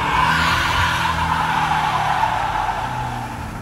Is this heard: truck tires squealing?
yes